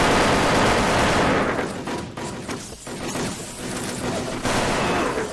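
Dense automatic gunfire from the online shooter Wolfteam, a rapid continuous burst that thins briefly in the middle and then resumes at full loudness.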